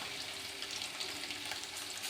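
Chicken pakodi deep frying in hot oil gives a steady, crackling sizzle, a continuous close hiss with no voices over it.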